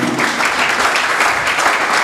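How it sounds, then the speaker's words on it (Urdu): Audience applause at a church evangelism seminar, steady dense clapping filling the hall throughout, loud and close with no talk over it. "میں چاہتا ہوں ان کے لیے زوردار تالیاں بجائی جائیں۔"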